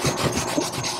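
Rapid scrubbing on a metal roof seam, brisk back-and-forth rubbing strokes close up, loud and rhythmic with no voices.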